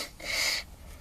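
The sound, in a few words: person blowing their nose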